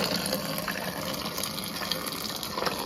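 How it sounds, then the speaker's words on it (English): Water runs steadily from a newly installed under-sink filter faucet, flushing the new filter with a continuous broadband rush and splash that holds even, fairly close and alone. "we're going to run quite a bit of water through there to flush it"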